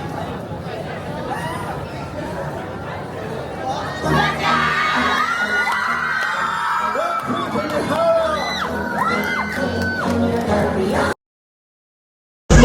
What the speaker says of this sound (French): Un immense applaudissement pour Sandial Crew.